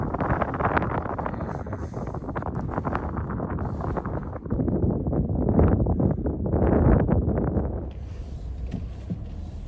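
Strong wind blows steadily and loudly outdoors, buffeting the microphone with a continuous rough roar that swells in the middle and eases slightly toward the end.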